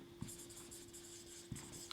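Marker or chalk strokes on a classroom board while chemistry reaction notes are written, a faint steady scratchy rubbing with two light taps, close and quiet, no talking.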